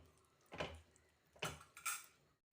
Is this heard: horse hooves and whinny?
no